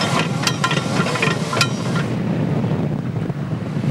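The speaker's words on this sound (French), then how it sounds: "Des voiles immenses gonflées par le vent." Wind gusts fill the huge sails of a 70-metre sailing mega-yacht at sea off Miami, a steady broadband rush with brief brighter flaps early on, loud and continuous with no talking.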